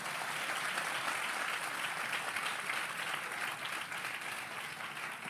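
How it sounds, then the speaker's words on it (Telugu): An audience claps continuously, a dense steady wash of applause holding at an even level for about five seconds with no talking over it. "కొట్టండి చప్పట్లో"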